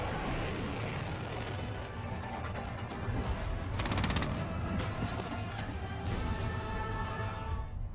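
Battle artillery and gunfire, a constant roaring wash of heavy firing and rumble, with rapid bursts of shots standing out in the middle, loud and continuous.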